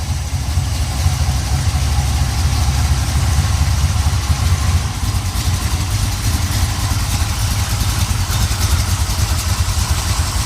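1970 Pontiac Ram Air 3 stroker V8 on pump gas with a Performer RPM dual plane intake and 850 Holley carburetor, idling at about 700 to 750 rpm with a steady, loud, lumpy low rumble from close by.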